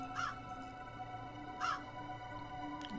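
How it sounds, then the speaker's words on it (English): Two harsh crow caws from the video game Crow Country, a short call near the start and another about halfway through, over a steady eerie ambient drone with no talk. "Crows eating something."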